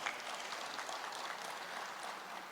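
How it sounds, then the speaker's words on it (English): A school reunion audience claps in a dense, even patter of many hands, faint and distant, holding steady for a couple of seconds. "give one big round of applause for sir for that."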